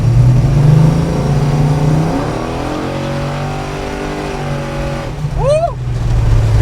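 A 1966 Plymouth Satellite with a 426 HEMI engine accelerates at half throttle, its loud engine climbing steadily in pitch through the gears, close by, with a voice exclaiming near the end.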